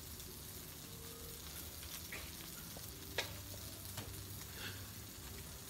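A tortilla pizza sizzling on a Blackstone flat top griddle, giving a quiet, steady crackle and hiss with a few sharp ticks and scrapes, heard up close.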